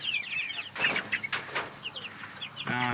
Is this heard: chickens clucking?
yes